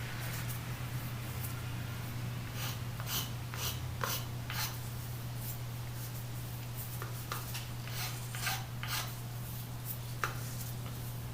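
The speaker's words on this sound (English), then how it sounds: "I'm releasing the pressure on the file when I bring it back. It is dragging back across it" A metal file rasps along the edge of a plastic pulley in a series of short, faint scraping strokes over a constant low hum, the strokes coming in loose bursts.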